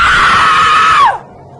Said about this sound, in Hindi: वो जोर से चिल्लाई